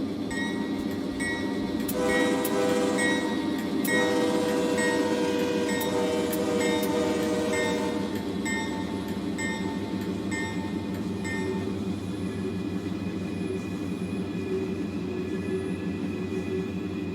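A freight train led by a faded 1990s-era AC4400CW locomotive in YN2 paint, fitted with a K5H air horn, rumbles past close by. Heavy rolling noise continues throughout, with short metallic tonal bursts during the first half.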